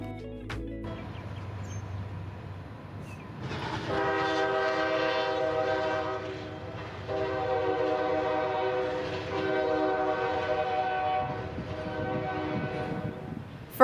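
A CSX Tampa to Jacksonville intermodal freight train with a West Virginia tribute locomotive leading rolls through Plant City, Florida, its horn sounding in long sustained blasts over the steady rumble of the passing cars.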